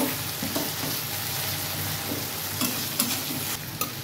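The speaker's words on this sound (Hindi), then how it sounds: "अब हम डाल देंगे 1 टमाटर, फिर से सबको मिक्स कर देंगे।" Tomato being stirred into masala frying in a pan for a desi-style egg curry, a steady close sizzle with soft scraping stir strokes and a few sharper clinks, no talk.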